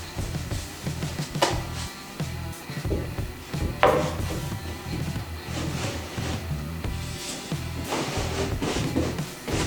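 A sanded, painted wooden floating shelf slides onto its wall mount with a close scraping rub and a few dull knocks and bumps as it is pushed into place.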